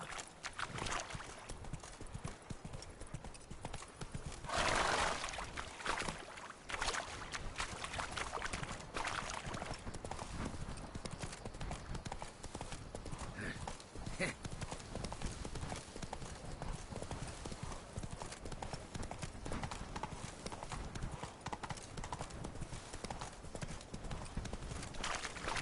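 Hooves of Roach, the horse in the video game Witcher 3, clip-clop in a steady galloping rhythm throughout, loud and close over game ambience, with a brief whinny and faint speech mixed in.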